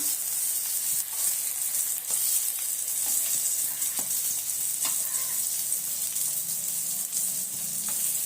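Prawn vadas fry in hot oil, giving a continuous bright sizzle with occasional light clinks and taps as they are turned in the pan.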